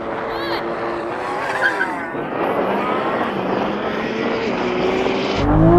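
Roaring engines and screeching tires as a Lamborghini Revuelto, Ferrari SF90 and Porsche 918 launch hard from a standing start in a drag race, loud and close, with talk over the noise.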